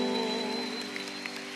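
Church congregation applauding during a Spanish-language worship service: quiet, scattered clapping under steady sustained keyboard tones, with no talking.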